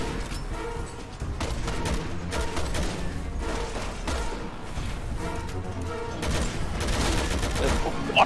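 Dense bursts of gunfire in Resident Evil 6, rapid overlapping shots and booms filling the whole stretch, loud and continuous with a final sharp hit.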